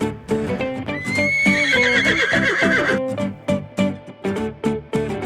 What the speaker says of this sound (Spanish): ¿Cuál es el sonido que hace el caballo?